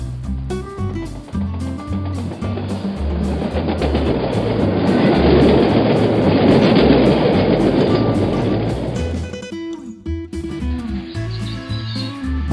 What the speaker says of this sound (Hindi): ट्रेन अपनी पूरी रफ्तार से जा रही थी।